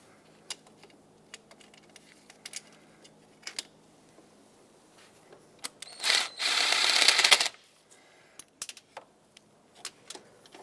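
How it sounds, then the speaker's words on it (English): Socket wrench on a swivel extension breaking two 10mm bolts free on a 2014-2021 Mazda 6, heard as scattered close metallic clicks and one loud rasping ratchet burst lasting about a second. "There are two 10mm bolts down there that you can sneak a socket with a swivel onto and break them free."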